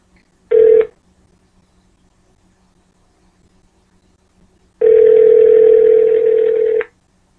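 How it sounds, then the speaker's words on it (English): A telephone dial tone sounds loudly: a short beep, a long pause, then a steady tone lasting about two seconds while a call is placed to someone who missed a call, with no speech. "we are going to call him back and find out why he is not answering his phone"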